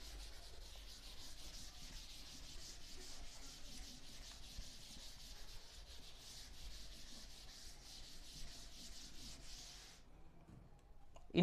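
A classroom board being rubbed clean with a steady, faint scrubbing that carries on for about ten seconds before stopping abruptly.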